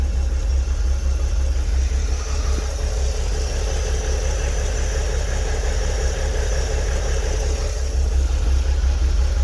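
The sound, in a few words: 2003 Porsche Boxster engine idling while warming up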